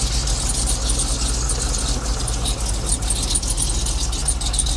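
Rebuilt Trailblazer SS engine idling just after startup, a loud continuous rumble with a choppy, uneven low-end pulse and steady hiss, heard close up with no talk.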